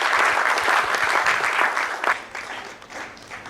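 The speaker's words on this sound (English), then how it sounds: "A round of applause." A crowd at a foundation alumni ceremony in Nigeria applauds an introduced officer, full steady clapping that tapers off toward the end.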